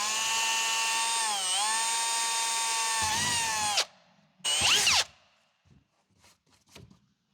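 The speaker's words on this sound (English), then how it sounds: "Make sure there's nothing behind there before you drill." A power drill whines steadily for several seconds with pitch dips, drilling near the license plate of a Dodge Ram during an air bag install, stops, then gives one short burst, followed by faint clicks and handling noises.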